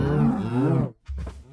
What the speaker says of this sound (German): wenn ich eine Kuh schlage